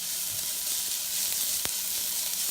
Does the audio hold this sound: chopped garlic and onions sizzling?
yes